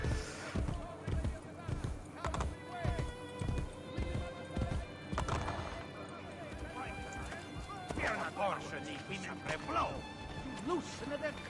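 Galloping horse hooves in the video game Assassin's Creed Brotherhood, a rapid, rhythmic clip-clop with a whinny near the end, heard under a person talking.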